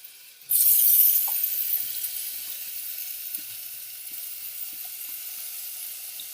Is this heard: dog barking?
no